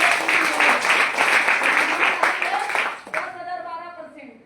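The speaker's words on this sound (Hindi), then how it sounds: "उसी लोगों की एक जोड़ा ताली" Audience at a seminar clapping hands together in a dense burst of applause lasting about three seconds, then breaking off as a voice starts speaking.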